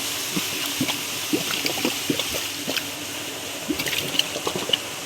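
Water pumped by a motor runs into an irrigation channel on a farm, a continuous close splashing and gurgling flow with small bursts of spatter.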